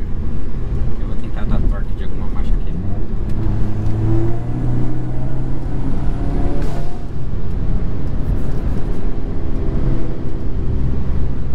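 A tuned Audi A3 Stage 2 turbo engine with a GFB blow-off valve, a loud steady close engine drone and rumble filling the whole stretch, with someone talking over it.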